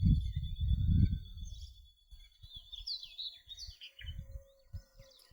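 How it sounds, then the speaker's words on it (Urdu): Birds sing in open village fields on an evening walk, their varied chirps and warbles running continuously above low thumps and rustles nearby. "اور ابھی آپ نے دیکھنا ہے پرندوں کی آواز"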